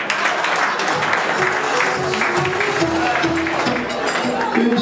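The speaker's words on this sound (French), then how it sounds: "On applaudit très fort." A crowd applauds loudly in a scene from a comedy film about a fake pastor, continuous dense clapping with murmuring voices mixed in throughout.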